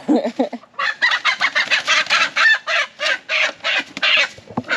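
Chickens cluck in a rapid, rhythmic series of bursts, close and fairly loud, with no talking.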